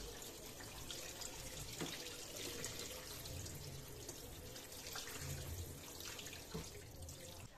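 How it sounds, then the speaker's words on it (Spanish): Cold tap water runs steadily over boiled shrimp being drained in a colander, a continuous close splashing stream with no talk over it. "Le echamos agua fría."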